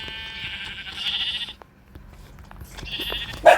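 Sheep bleating in a crafting video game, two drawn-out wavering bleats separated by a pause, with faint clicks and soft background noise between them.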